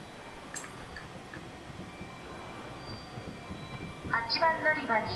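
Sunrise Seto sleeper limited express in the BVE5 train simulator, a quiet low rumble of a standing train at a station platform, with a short squealing, tonal brake or wheel sound near the end, under a station announcement.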